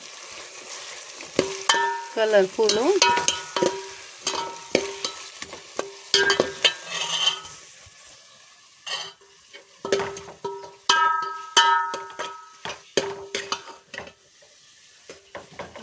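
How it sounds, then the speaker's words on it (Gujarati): Vegetables for a bottle gourd and tomato dish sizzle in a hot pan as a spoon scrapes and clinks against the metal in repeated stirring strokes, close and loud, with a few spoken words. "જો આપણું શાક વઘાર મારી દીધો છે"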